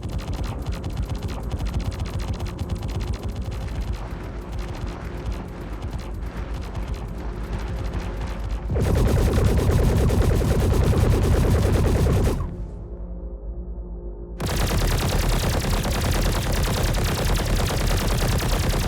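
NDB repeater energy weapons in the Star Citizen space game fire in sustained rapid bursts, a dense continuous rattling stream that swells louder midway, briefly drops to a thinner hum, then resumes at full intensity.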